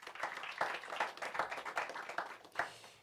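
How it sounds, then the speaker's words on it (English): A press conference audience applauds with quick, dense hand claps in a fairly quiet, indoor-sounding burst lasting a few seconds. "Please give a warm round of applause"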